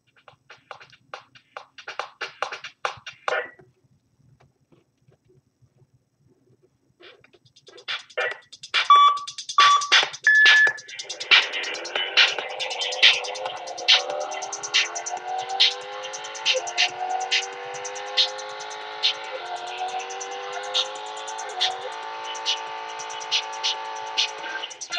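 An iPad car video game starts with a few faint electronic blips, then falls briefly quiet before its soundtrack kicks in with beeping tones and layered synthetic music that keeps going steadily to the end.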